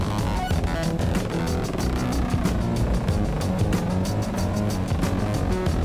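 A Bushcat light aircraft's engine runs at full power during stall recovery, a steady, loud droning roar that fills the cabin and holds without a break.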